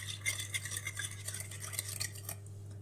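A spoon stirs sugar into a mixture of warm water and yeast for pastry dough, a soft continuous scraping and swishing against a bowl over a low steady hum, with no talking.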